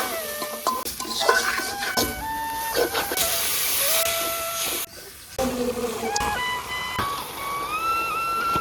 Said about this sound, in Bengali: আদা ও জিরা বাটা মরিচের গুঁড়া হলুদের গুঁড়া ধনিয়া গুঁড়া স্বাদ মতো লবণ মশলাটা কষিয়ে নেব